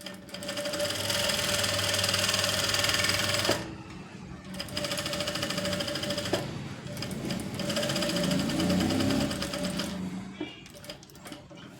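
An electric sewing machine stitches a blouse in rapid, continuous bursts, with two brief pauses between long runs of steady, close mechanical chatter.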